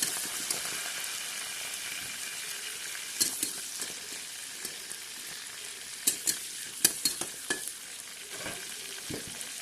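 Curry leaves and green chillies fry in oil in a pan for a drumstick curry, a quiet, continuous crackling sizzle broken by scattered sharp pops and spatters.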